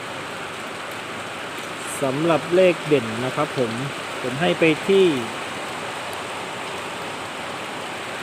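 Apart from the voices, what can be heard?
rain falling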